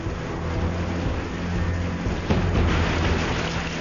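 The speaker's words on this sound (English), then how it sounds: "Jim Leonard captured this hailstorm in 1989." Heavy hail and rain pour steadily during a 1989 hailstorm, with a broad roar of pelting ice and a low rumble of thunder swelling midway, dense and continuous throughout.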